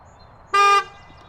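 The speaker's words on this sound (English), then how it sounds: "Hey Siri, blow the horn on my car." A Tesla car horn sounds once in a single short, loud blast, set off by voice command, against a quiet background.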